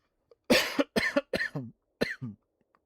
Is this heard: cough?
yes